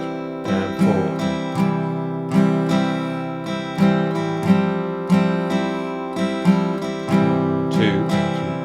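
Strummed guitar chords in a steady rhythmic pattern, repeated strokes with crisp attacks, played close and clear with no voices.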